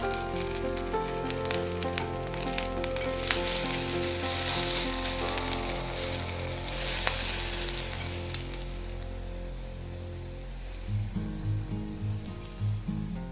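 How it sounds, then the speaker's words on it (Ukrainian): Steady loud sizzling of potato pancakes frying in hot oil in a covered pan over medium heat, continuous crackle with occasional small pops, no talking. "смажимо під кришкою приблизно по 2-3 хвилини з кожної сторони"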